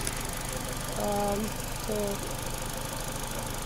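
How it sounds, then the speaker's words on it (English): Peugeot 307 with the 180hp engine droning loudly and steadily, a constant broadband roar with a couple of brief tonal swells, a short spoken word barely heard over it. "the engine sounds very loud"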